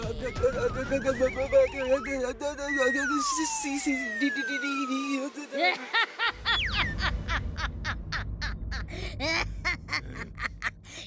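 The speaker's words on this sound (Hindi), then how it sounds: "ये गधा चिंटू का दोस्त लगता है" A cartoon donkey in an animated robot-boy series brays with long, wavering, pitch-sliding honks, mixed with comic sound effects and a quick run of rhythmic clicks near the end.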